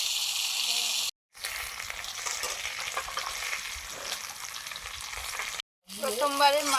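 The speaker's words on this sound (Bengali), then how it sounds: "প্রথমবারের মাছ ভাজাটা হয়ে গেছে, তুলে নিচ্ছি" Japanese puti fish frying in oil in a pan, a steady bright sizzle with stirring sounds, broken by two short silent gaps, then a voice speaks briefly over the crackle near the end.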